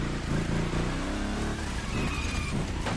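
A big block street car engine in the video game The Crew Motorfest roars and shifts pitch as it revs, a loud, continuous engine drone with no speech.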